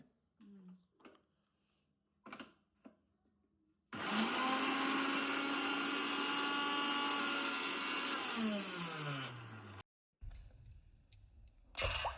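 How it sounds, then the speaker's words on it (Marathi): Electric mixer grinder grinding spice masala for a spicy non-veg dish, a loud whirring roar that starts abruptly, holds for about six seconds with pitch shifts, then stops, with people talking around it. "आता इथं मसाला बारीक करायचा चालू आहे"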